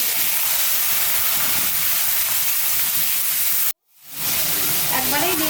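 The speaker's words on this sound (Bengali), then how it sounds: "ফোড়নটা হয়ে গেছে, চিংড়ি মাছ চাপিয়ে দিলাম।" Prawns dropped into hot oil tempered with dried chilli, bay leaf and cumin, a loud dense hiss that cuts out abruptly for a moment, then returns as a fresh crackling sizzle.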